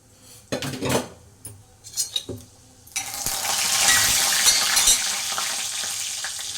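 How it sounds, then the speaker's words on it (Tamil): Sharp clinks of a spoon against a pan, then a loud, steady sizzle as mustard seeds and urad dal hit hot oil close by. "கடுகு உளுத்தம்பருப்பு போட்டாச்சு."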